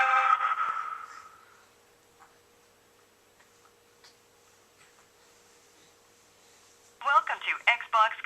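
A SHARKK Titan HD Octa-Core Android phone making a call gives a bright telephone tone that fades over the first second or so, followed by near silence with faint ticks, before a recorded voice comes in at the end.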